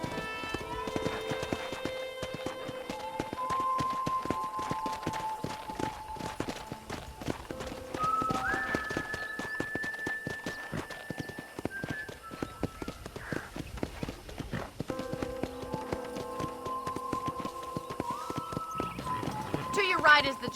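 Horse hooves clip-clopping on a ranch in Red Dead Redemption on Xbox One X, a steady rhythmic trot running throughout with occasional whinnies, while music plays and characters talk over it.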